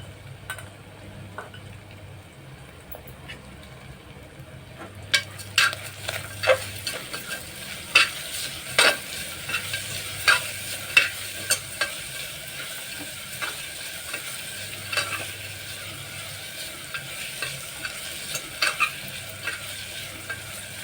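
Jaggery and grated coconut being stirred in a pan, a faint sizzle beneath repeated scraping and clicking strokes of a spoon against the metal, steady and rhythmic after a quieter start.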